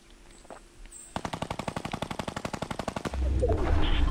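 Automatic gunfire in the video game Fortnite crackles as a rapid, steady burst of shots lasting about two seconds, followed by a louder rumbling blast.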